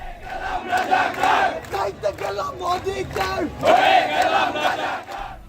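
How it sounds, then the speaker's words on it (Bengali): Protesting students at a road blockade outside BRAC University chant slogans together, a loud massed crowd of voices rising and falling in rhythmic shouted call-and-response, with a swell near the end. "আন্দোলন থেকে শিক্ষার্থীরা নানা স্লোগান দিয়ে যাচ্ছেন"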